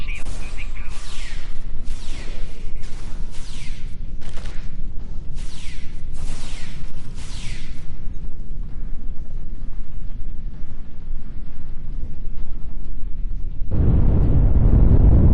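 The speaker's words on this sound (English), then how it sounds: "That was an explosion of sufficient magnitude to cause a breach." An explosion in a Star Trek audio drama lands late as a sudden, heavy, deep rumbling blast, following a stretch of quieter ambience and short sweeping tones.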